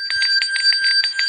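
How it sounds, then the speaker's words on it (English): A bright bicycle-style bell rings in rapid, evenly spaced strikes over a sustained ringing tone, loud and close, with no talking. "Bells ring."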